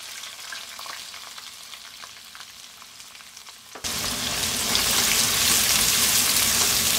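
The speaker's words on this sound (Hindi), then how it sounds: "प्याज को लाइट ब्राउन करेंगे, बहुत ज्यादा ब्राउन नहीं करेंगे।" Sliced onion with whole spices such as star anise frying in oil, a steady hiss that jumps abruptly louder midway into a dense, bright sizzle, close and continuous with no voices.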